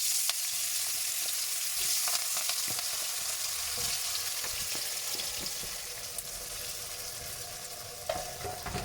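Potatoes with curry leaves frying in a pan for a spicy Tamil potato fry, a steady close sizzle with occasional scrapes and clinks of stirring throughout.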